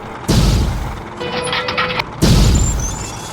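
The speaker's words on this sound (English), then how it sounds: "The cannon cracks." Two heavy tank cannon shots in battle, each a loud sudden boom with a long rumbling decay, separated by a quieter stretch of mechanical clatter and crew-compartment noise.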